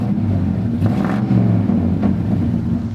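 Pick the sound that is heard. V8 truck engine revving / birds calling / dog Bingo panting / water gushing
V8 truck engine revving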